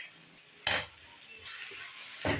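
Eggs and drumstick leaves stirred in a hot pan, with a loud scrape of the utensil against the metal, a fainter stroke later and a soft sizzle underneath.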